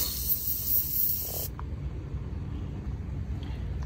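Penetrant sprayed from an aerosol can onto a brake caliper bolt on a 2011-2012 Ford F150 EcoBoost, a close, bright hiss lasting about a second and a half before cutting off into quiet garage ambience.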